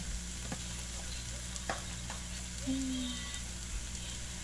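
A dish for Mami frying and sizzling in a pan, a steady hiss with faint stirring scrapes and a brief low hum, no talking.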